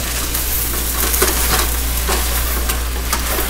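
Chicken fried rice sizzles and crackles steadily in a hot pan, with soft scraping of stirring mixed into the continuous frying hiss.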